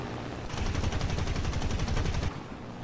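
Rapid automatic cannon fire from an aircraft in War Thunder, a loud sustained burst of closely spaced shots lasting nearly two seconds before cutting off.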